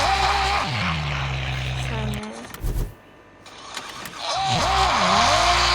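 A BMW car's engine revs hard as the tires spin and skid, with rising and falling engine whines and a brief lull in the middle, while people talk over it.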